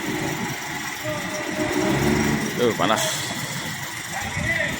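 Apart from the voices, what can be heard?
Hino RG chassis bus engine idling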